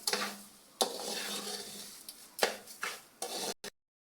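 Sugar is stirred into semolina halwa in a pan, giving quiet scraping and stirring strokes with a few sharp utensil clinks against the pan and a faint sizzle, near and soft with no talk.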